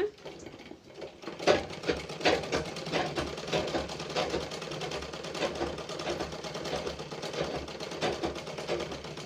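A sewing machine stitching the folded edge of a handkerchief at a beginner tailoring class, rapid rhythmic mechanical clatter that starts after a brief pause and runs steadily up close, with no talk over it.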